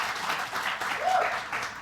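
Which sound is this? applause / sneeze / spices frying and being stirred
applause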